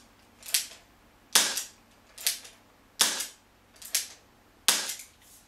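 Six sharp snapping shots from a long-barrel spring action toy revolver, evenly spaced a little under a second apart, close and crisp with brief decays and no talk.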